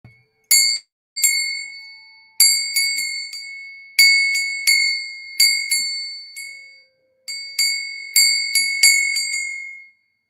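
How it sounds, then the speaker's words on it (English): A temple bell from the Palace of Gold, a Krishna temple in West Virginia, is struck again and again in quick bursts. Each strike gives a bright, clear metallic ring that fades quickly. No one speaks. "This bell got from a Krishna temple in West Virginia called the Palace of Gold. Very beautiful bell."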